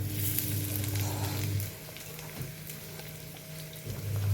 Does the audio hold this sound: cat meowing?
no